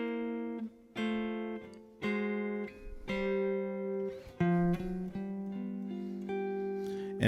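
A blues turnaround lick in C played on guitar, picked with fingers and a pick, rings out as a series of clean plucked notes and double stops, each sustaining before the next, alone with no talking.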